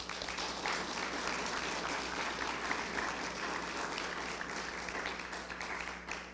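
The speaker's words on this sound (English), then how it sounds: "I think that deserves a round of applause." Audience applause for high school graduates at a 2021 public high school graduation ceremony, steady and fairly faint across the whole stretch, a dense wash of many hands clapping from a distance with no voices over it.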